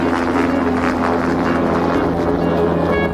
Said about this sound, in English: Yep, that's our helicopter.